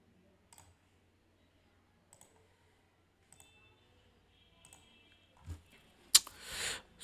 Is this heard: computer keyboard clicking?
yes